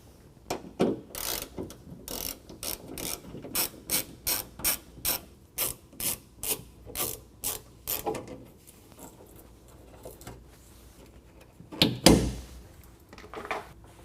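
A ratchet with a 7mm socket turns out trim screws on a 2021 Ford F-150 wheel well, giving a close, crisp series of rapid clicking bursts in a steady rhythm, then a pause and a final louder burst.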